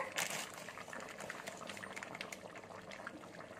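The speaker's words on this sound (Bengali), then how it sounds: "দেখুন সবজিটা কেমন ফুটছে।" Potatoes and pointed gourd boil in a covered pot, giving a dense, steady bubbling and popping that stays fairly faint throughout, with no talk.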